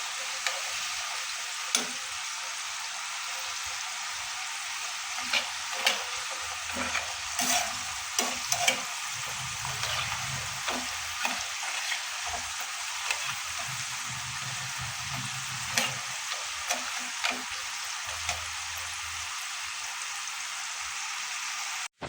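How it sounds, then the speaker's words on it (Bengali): Gaja sweets fry in oil seasoned with black cumin, giving a steady soft sizzle with scattered stirring clinks and scrapes throughout, no voices over it. "তৈরি করে নিয়েছি, এখন আমি ভাজবো। এই যে আমি ভাজতে চলে এসেছি।"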